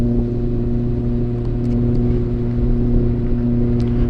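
Electric motor of an RC glider running steadily on throttle, a close, continuous droning hum with stable tone for a few seconds, no voices.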